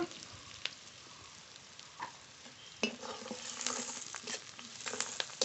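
Oil goes into a pan of lightly fried onions for a desi chicken curry; a low crackle swells into a busier, louder sizzle with scattered pops and stirring scrapes in the second half.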